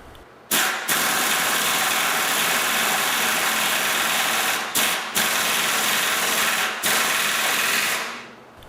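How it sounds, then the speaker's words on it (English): A pneumatic butterfly impact wrench tightens bolts on pillow blocks during assembly of a Titan Mk9, its loud continuous hammering whir running in long bursts broken by short pauses as it moves between bolts. "We then tighten the whole works with the butterfly wrench."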